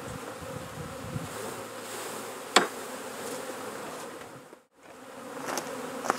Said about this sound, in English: I'm going to shake the bees off this one.